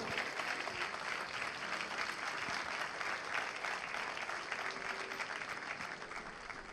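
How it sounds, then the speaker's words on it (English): A large crowd claps continuously for the LEU captains and sailors at a formal event, a thick, even wash of applause that holds steady at a distance throughout. "Another round of applause for our ladies and gentlemen from the LEU captains and sailors combined"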